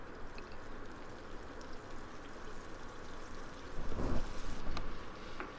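Water gushes and splashes steadily into a frying pan of cooking food to steam it, swelling louder near the end, with a rushing, hissing texture and no talking.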